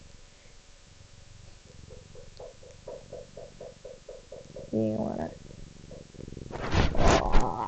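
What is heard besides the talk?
cat purring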